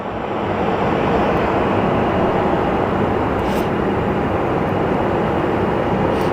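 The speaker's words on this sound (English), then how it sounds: "And we have Southwest 2897 that is taxiing." Southwest airliner taxiing at Sky Harbor Airport in Phoenix, a steady, broad jet-engine roar that holds even and continuous from a moderate distance, with no talk over it.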